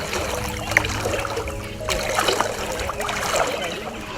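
People wade across a shallow river; water splashes and trickles around their legs in irregular sloshes, close by and moderately loud.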